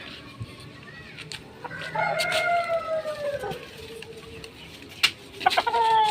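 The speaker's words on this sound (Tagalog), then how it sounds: "Likot kasi nitong manok na to." A chicken clucks and squawks in short bursts, with a drawn-out crow-like call in the middle and a few sharp knocks nearby.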